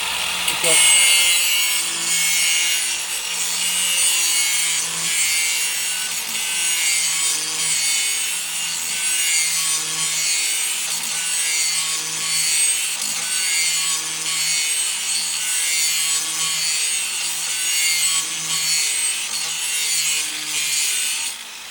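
An angle grinder, held in a sliding jig, grinds the edge of a lawn mower blade in a loud, steady, continuous rasping whine with slight rhythmic variation, running alone throughout.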